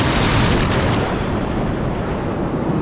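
Choppy ocean waves roll in at Freedom Beach in Phuket, a dense, continuous roar of surf with heavy wind buffeting, loud and steady throughout without any voices.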